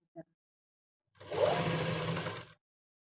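Sewing machine stitching piping onto a blouse: a tiny tap, then one loud, steady, rapid mechanical run of about a second and a half that stops abruptly, near and alone.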